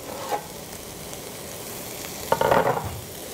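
Minced meat, onion and garlic sizzle steadily in a hot pan, with a brief louder crackle and scrape of stirring partway through; no talking.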